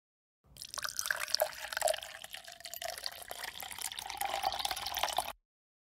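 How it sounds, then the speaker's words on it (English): Water splashing and pouring steadily onto a classroom floor for about five seconds, a continuous close wet hiss with a few drips, no voices. "I'm going to pour water on the floor in the classroom."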